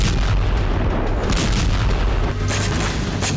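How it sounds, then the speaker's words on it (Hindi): Explosions from a Ukrainian drone attack on Russia's Primorsk oil port on the Baltic Sea make a loud, continuous booming roar with heavy low rumble that barely eases throughout. "जहां बीती रात जबरदस्त धमाका देखा गया।"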